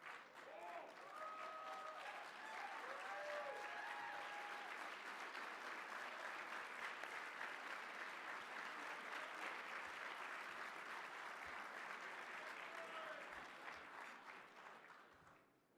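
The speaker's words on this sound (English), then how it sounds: "Clapping and..." Audience clapping at an awards dinner, a broad, sustained wash of applause from a large room that swells, holds and fades out at the end, with faint voices and cheers rising over it early on.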